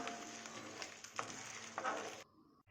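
Palm jaggery syrup stirred in a pan while it melts, a steady close scraping and bubbling sizzle that runs for about two seconds and then drops off abruptly into near silence.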